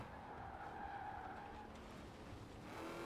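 A muscle car in the racing game Forza Horizon 4 holds a loud, constant engine drone while its tires squeal and skid throughout, with no talking.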